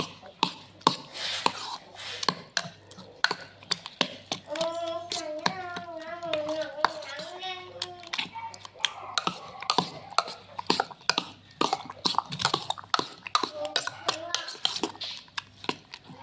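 Eggs beaten with carrot and turnip in a bowl make rapid, close, rhythmic clicking taps throughout, and a voice speaks briefly partway through.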